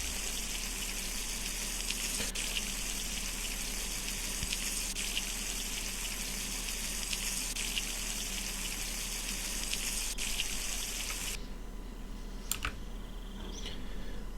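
Water pours steadily in The Long Drive video game, a continuous hissing gush heard alone that cuts off abruptly near the end, leaving a few faint clicks.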